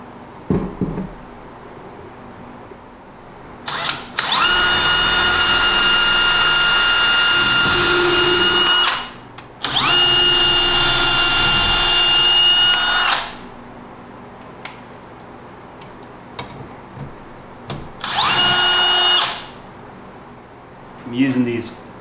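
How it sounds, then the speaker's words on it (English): A power drill drives cabinet screws into a wooden face frame in three long whirring bursts, loud and close, with quieter workshop handling between them. "So now I'm just going to go and screw them in from this side."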